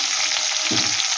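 Onion sizzling steadily in a hot pan, a bright continuous frying hiss with a couple of soft low stirring bumps, close and fairly loud, no voices.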